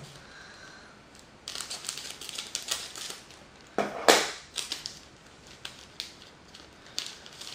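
Plastic packets of creature encyclopedia gummy candy are torn and crinkled open, crisp rustling and crackling bursts coming close and irregular, with one loud rip in the middle.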